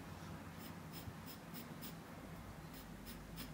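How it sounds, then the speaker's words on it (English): A very sharp medium charcoal pencil moves gently across paper for a moose-in-snow drawing, producing faint, close scratchy strokes in a soft repeating rhythm over a quiet room hiss. "I'm using a very sharp medium charcoal pencil"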